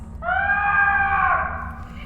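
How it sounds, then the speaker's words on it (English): A drawn-out, high, wavering scream from a Star Trek Online game scene, rising then fading over about a second and a half above a low steady background hum, with no talk. "I love that scream."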